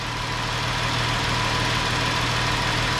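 A Chrysler 300 with the 3.6 engine idles steadily up close, a loud, even mechanical hum with a low throb and a constant hiss, no voices.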